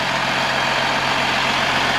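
A 2008 Freightliner Business Class M2 106 truck idles with its 220-horsepower Cummins ISB 6.7 turbo diesel, giving a steady, close, unbroken low rumble with no talking.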